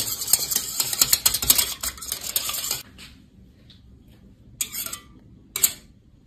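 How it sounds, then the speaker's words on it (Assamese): Egg being whisked in a bowl for KFC-style fried chicken, a rapid run of clicking, tapping strokes for nearly three seconds, then a few short bursts after a quiet gap. "ডিমটো এতিয়া আমি ফিটি লম"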